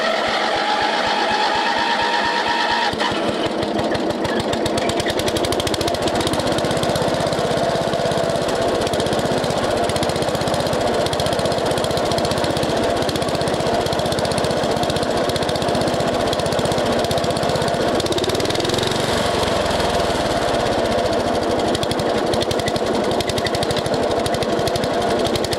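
A 52-year-old rusty brush mower engine runs roughly on a temporary fuel tank with a leaking carburetor after a battery-assisted start, a loud, continuous uneven clatter close by that holds steady throughout.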